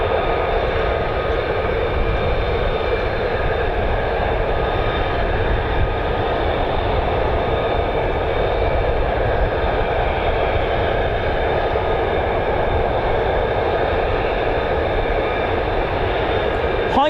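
F-35 fighter jet, conventional takeoff and landing variant, at RAF Lakenheath, a loud, sustained broadband engine roar with tonal whine layered over it, steady and unbroken.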